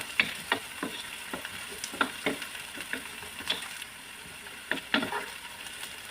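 Onion and garlic frying in a pan for chicken kabsa, a soft low sizzle broken by repeated scraping clicks of stirring at an irregular rhythm, fairly faint and with no voices.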